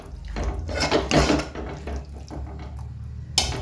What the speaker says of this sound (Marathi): तर मी आता थोडं पाणी ओतून घेते